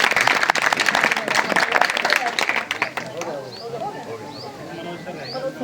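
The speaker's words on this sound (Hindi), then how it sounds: "तालियां बजा दो एक बार।" A crowd claps during a welcome at a retirement send-off, a dense burst of applause that fades after about three seconds, leaving quieter chatter and birdsong behind, with people talking through it.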